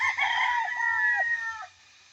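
Chickens being fed cluck and crow loudly close by, a busy flurry of calls over a low rumble, fading out near the end.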